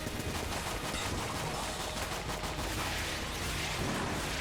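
Dense, continuous rapid gunfire fills the whole stretch, loud and unbroken like sustained automatic fire, in the video game Enter the Gungeon; no speech over it.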